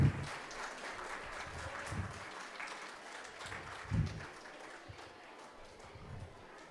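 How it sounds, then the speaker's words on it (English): An awards ceremony crowd claps for a school receiving a certificate, with a fairly faint, distant patter of applause and a few louder bursts over about seven seconds. "Come on, a big round of applause for them."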